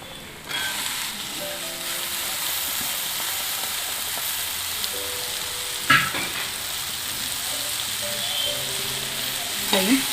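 Jackfruit pieces fry in hot oil for upperi, giving a steady, moderate sizzle close by, with a few louder clatters of stirring now and then.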